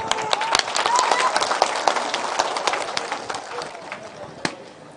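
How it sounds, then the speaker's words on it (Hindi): Audience applause at a political rally in India, a dense burst of clapping from a large crowd that starts strong and gradually thins and fades, with a few sharp individual claps standing out near the end. "आपकी ताली की आवाज से"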